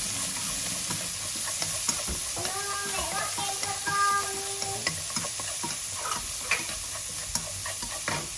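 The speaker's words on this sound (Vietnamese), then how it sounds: "Khi tỏi đã vàng thì chúng ta sẽ cho cái phần xả băm và chúng ta đảo đều vào." Minced lemongrass is stirred into golden fried garlic for a Thai seafood hot pot, the pan sizzling steadily while a utensil scrapes and clicks now and then, close and moderately loud.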